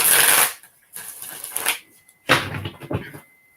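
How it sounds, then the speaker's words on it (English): A deck of reading cards is shuffled in three bursts of riffling and flicking, close and fairly loud, with short pauses between them and no talk. "Let me shuffle them up really good here."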